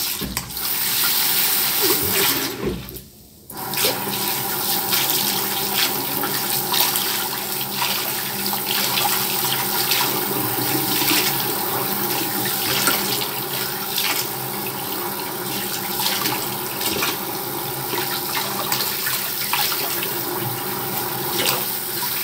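Water runs steadily from a tap as soap foam is rinsed away, a loud continuous splashing rush that cuts out briefly near the start and then carries on without speech.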